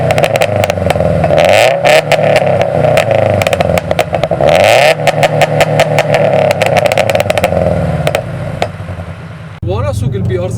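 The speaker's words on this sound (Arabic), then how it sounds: "صوت الاكزوز وايد مطلع، صوت البوكسر انجن وايد حلو صاير" Loud, rumbling boxer-engine exhaust of a Subaru BRZ with Tomei headers revs repeatedly, surging and dropping with a throaty burble between pulls, close by, ending in a lower idle.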